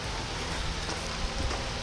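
Steady rain falls in Wisconsin woods during a black bear hunt with hounds, a constant close hiss of drops on leaves and surfaces with no voices.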